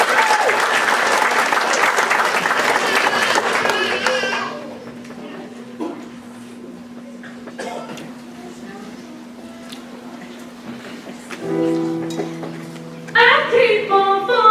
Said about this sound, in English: Please give Darian a nice round of applause.